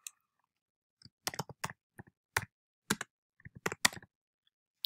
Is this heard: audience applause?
no